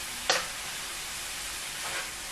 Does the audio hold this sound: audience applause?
no